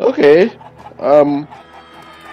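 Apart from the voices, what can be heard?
chickens clucking in the video game Minecraft Story Mode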